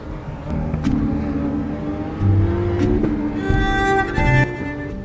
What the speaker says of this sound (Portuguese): cria inclinações íngremes que forçam os motores a rugir em potência máxima